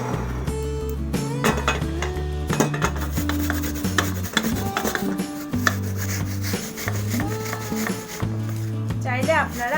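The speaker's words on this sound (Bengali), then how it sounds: "এখন আমি গ্রেটারের সাহায্যে গ্রেট করে নিব" Peeled apples are rubbed against a kitchen grater in repeated rasping strokes with occasional clinks, heard close beneath steady background music.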